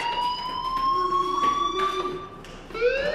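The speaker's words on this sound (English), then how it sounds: "do you hear that fire alarm?" A video game fire alarm sounds as a steady electronic siren-like tone with a rising sweep near the end, continuous and fairly loud with no talk over it.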